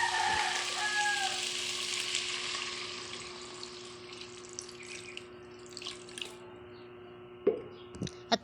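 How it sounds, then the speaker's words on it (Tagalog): Water poured into a pan of sautéed pork gives a hissing sizzle that starts loud and broad, then settles into a quieter steady simmer with a few sharp clinks near the end. "Ilalagay ko na po dyan yung tubig para po lumambot po yung baboy."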